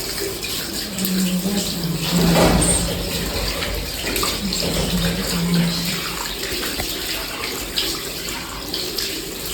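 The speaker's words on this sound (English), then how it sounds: "Before the procedure, we are going to start with the hand washing." Hands washed under a running tap before a nursing bed-making procedure, with a steady rush of water that holds at an even level throughout and swells slightly in the first few seconds.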